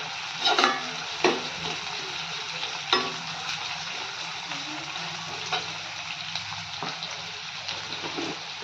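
Chicken biryani ingredients fry in a pan, a steady close sizzle broken by repeated scraping stirs and light clacks of the spoon against the pan at irregular intervals.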